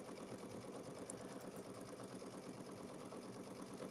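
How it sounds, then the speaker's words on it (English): An embroidery sewing machine stitches place mats with a fast, even needle chatter and motor whir, close and steady throughout, with no talking. "I'm sewing over the top of the camera"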